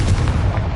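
A Confringo fire spell explodes in a Harry Potter video game with one short, loud, deep boom that rumbles through under a second, with no voice over it.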